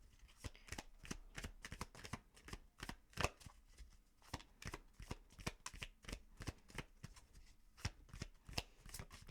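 Tarot cards are shuffled close up in a steady run of crisp, rapid riffling slaps and taps, quiet overall and without talking.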